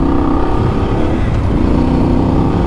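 A Voge 800 DSX Rally motorcycle rides off-road on slightly deflated tires with a loud continuous engine drone and rumble, close and steady, alongside broad wind and road noise and no clear talk.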